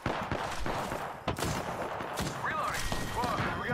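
Rapid P20 pistol fire in the video game Apex Legends, a quick volley of sharp gunshots with further shots layered among other game combat noise, fairly close and continuous over a few seconds.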